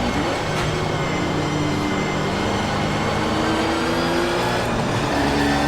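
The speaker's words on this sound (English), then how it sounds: "I love the sound of this engine too." A race car engine in the video game Project Motor Racing drones steadily with a loud, continuous harmonic whine, the pitch shifting gently as it holds a constant roar, no voices.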